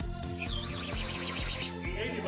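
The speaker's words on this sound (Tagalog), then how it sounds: "Bird whistle na hawak ni Adjo." A handheld bird whistle toy is blown in a string of warbling, chirping trills, shrill and close, with a low repeating tone running underneath and faint talk in the background.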